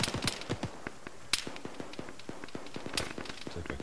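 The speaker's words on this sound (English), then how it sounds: "we're still taking fire here" Gunfire in the military video game ShackTac (Arma), rapid scattered sharp cracks and pops throughout, some single shots and short bursts at moderate distance, with a few louder close reports standing out.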